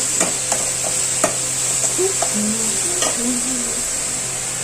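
Finely chopped ingredients sautéing in oil in a pan, a constant bright sizzle with intermittent spoon taps and scrapes, close and fairly loud, with faint voices briefly in the background.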